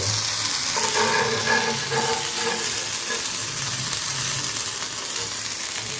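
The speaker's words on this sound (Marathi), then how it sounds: "आता आपण बोंबील आहेत ना ते पलटी मारून घेऊया." Bombay duck (bombil) fish frying in oil on a hot tawa, a loud, continuous close-up sizzle with faint scraping as pieces are moved, no talk over it.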